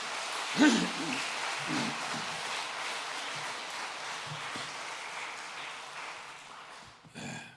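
A church congregation at a Sunday worship service claps together in thanks, a dense, steady patter of many hands that holds for several seconds and tapers off toward the end, with no talking over it.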